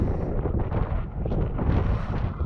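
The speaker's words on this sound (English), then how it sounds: "It's pretty windy today." Strong wind blows across a Goat Rocks Wilderness mountain saddle, a loud low buffeting roar on the microphone with gusty surges and no voices.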